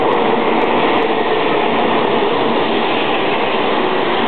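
A Taiwan High Speed Rail train, number 331, makes a loud, steady rushing roar heard close up, a continuous broadband rumble with no break and no voices.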